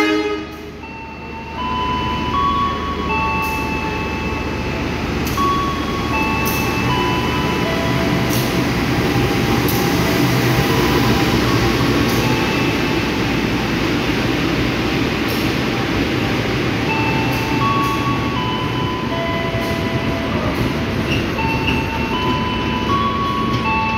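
KA Lodaya economy passenger train heard from inside the carriage at high speed, a steady loud rumble and rail clatter with faint squeals and ticks throughout, no talk.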